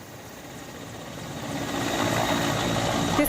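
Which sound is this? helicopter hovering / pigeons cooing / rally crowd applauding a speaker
helicopter hovering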